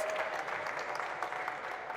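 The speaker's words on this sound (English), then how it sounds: "Let's give a round of applause once again for the chairman of Kenya National Chamber of Commerce." Applause from the audience at a Bosch brand-store launch in Kenya, brisk even clapping from a modest crowd, fairly quiet and continuous with no speech over it.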